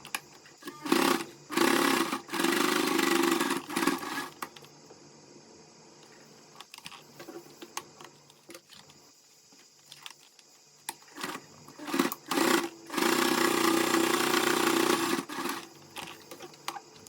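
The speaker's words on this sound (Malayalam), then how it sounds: "അപ്പോൾ ഈ 2 ലൈനിലൂടെ നമ്മളൊന്ന് സ്റ്റിച്ച് ചെയ്ത് കൊടുക്കണം" A sewing machine stitches lines across a fabric bag, running in loud whirring bursts of a second or a few seconds, separated by quieter pauses where the fabric is handled.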